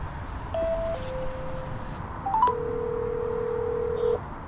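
A phone call is dialed, with a short sequence of steady electronic keypad tones stepping between pitches and ending in one long sustained tone, heard clearly over faint background hiss.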